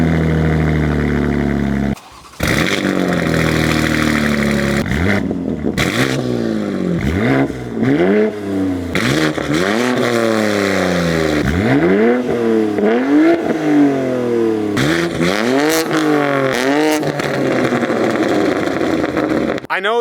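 BMW M4 fitted with a Valvetronic exhaust, revved repeatedly in loud, close rising and falling bursts that roar, then drop back toward idle, with a brief cut near the start and people talking around it.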